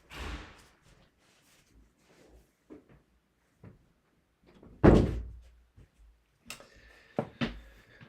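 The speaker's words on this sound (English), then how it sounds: "gonna close my bedroom door." A bedroom door swings shut with one solid thump near the middle, amid scattered quieter knocks, taps and handling sounds in a quiet room, followed by a few faint clicks.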